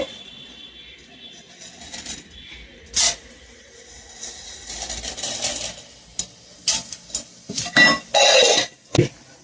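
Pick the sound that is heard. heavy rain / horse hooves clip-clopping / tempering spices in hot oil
tempering spices in hot oil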